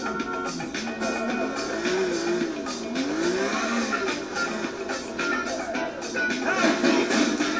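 A car driven in the PS3 game GTA IV, its engine droning and shifting pitch continuously, with tire and road noise close up and a voice occasionally talking over it.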